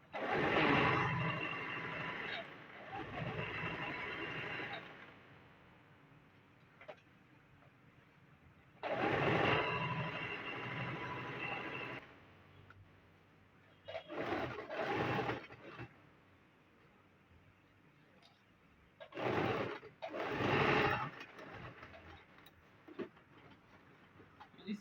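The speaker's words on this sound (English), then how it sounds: "Just continue sewing till the end." A sewing machine stitches trouser fabric in several sustained whirring runs, some a few seconds long and others short bursts, close and loud, with quiet pauses in between and no talking.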